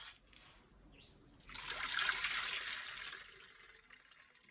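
Liquid trickles and splashes steadily as milk is squeezed from grated coconut into a pot in an open-air kitchen, starting faint then growing fuller and louder midway, close by with no talk.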